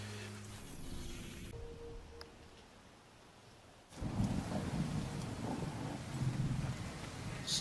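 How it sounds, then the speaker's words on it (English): Heavy rain pours steadily in The Division 2, with a rumble of thunder, first softer and then surging louder into a dense roar about halfway through. "Still raining cats and dogs."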